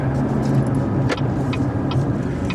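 A 2016 GMC Canyon pickup's Duramax diesel engine runs at a steady, close, continuous drone with a faint sharp tick now and then. No one speaks over it.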